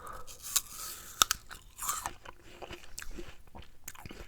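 Close, crisp bites into a crunchy apple followed by wet crunching and chewing, a few sharp snapping bites early on giving way to steadier mastication, recorded intimately in an ASMR eating setting.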